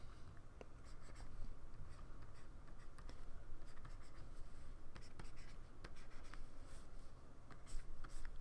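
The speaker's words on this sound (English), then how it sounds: "I'm just some guy working on a bit of paper, putting together something, like some cartoon art, Garfield or something." A pencil scratches and strokes across paper while cartoon art is drawn, giving close, steady rubbing and quick ticking marks that run throughout with no talking.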